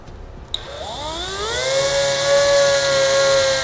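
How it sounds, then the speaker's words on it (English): A drill bores a small pilot hole through a metal trailer rail for a tailgate lift assist, its whine rising in pitch as the bit spins up and then holding a loud, steady tone, close and alone. "We're just using that to make a small pilot hole, and then we're going to step it up to a 1/2-inch drill bit"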